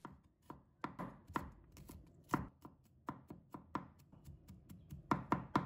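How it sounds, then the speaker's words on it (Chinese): A knife chopping garlic into small pieces on a cutting board, crisp close taps in an uneven rhythm, some spaced and some in quick bunches, heard alone in a quiet kitchen. "再准备1把大蒜，把它切成片。 再把它切成粒。"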